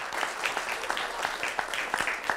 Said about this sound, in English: Please applaud for them.